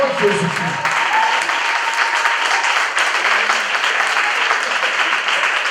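Congregation applauding at an investiture church service, a dense, steady wash of clapping from many hands that carries on evenly throughout, with a few voices briefly audible underneath at the start.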